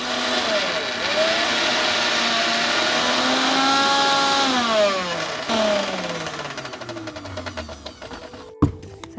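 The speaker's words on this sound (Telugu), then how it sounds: "ఇది ఇంకా మనం ఇప్పుడు మిక్సీ పట్టేసుకుందాం" A mixer grinder blending onion and curd chutney paste, a loud steady motor whine that rises and shifts in pitch as it runs, then spins down and stops with a final clunk.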